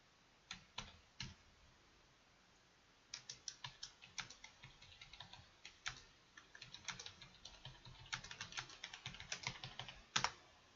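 Typing on an Australian/American-layout computer keyboard during a flight-sim session, bursts of close, crisp keystrokes with pauses, growing denser toward the end and finishing on a couple of sharper clicks.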